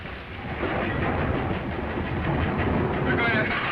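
A train runs on rails with a steady, loud rumble that fills the whole stretch, with faint clickety-clack in the roar and no clear break.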